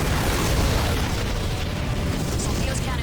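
Large in-game cannon, a Sol Dios, being destroyed in the mecha shooter Armored Core: For Answer, heard as a continuous, dense roar of rumbling blast noise throughout, loud and low-heavy.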